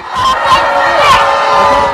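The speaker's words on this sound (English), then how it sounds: "the crowd put signs in front of our cameras, and they started yelling too loud" A close, loud crowd yelling and shouting at once during a press confrontation, a dense wash of overlapping voices with whoops rising above it for the whole stretch.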